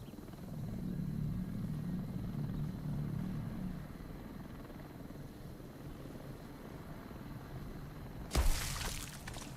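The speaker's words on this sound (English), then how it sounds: "Getting up to that chopper, Fred!" A helicopter from an Arizona Sunshine 2 game trailer gives a muffled, continuous rotor rumble at moderate distance, followed by a sharp shattering crash near the end.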